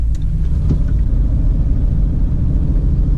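Loud, constant low engine rumble heard from inside a moving SUV, steady throughout with no voices.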